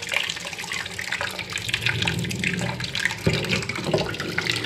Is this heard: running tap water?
yes